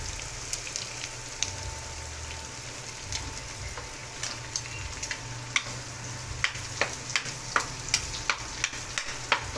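Garlic fries quietly in a pan with a soft, continuous sizzle, scattered crackles and pops growing more frequent toward the end, over a low background hum.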